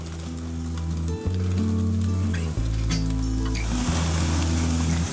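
Meat sears in a very hot pan, a loud, close, continuous sizzle with a low steady hum beneath it and a couple of brief clatters and shifts partway through, no talking.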